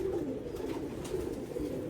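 A fancy show pigeon held up for inspection coos in a low, continuous rolling murmur close by, with no other sounds over it.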